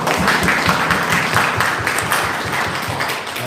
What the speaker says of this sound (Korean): 우리 다 같이 박수로 시작하겠습니다